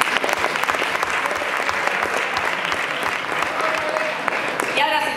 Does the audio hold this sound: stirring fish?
no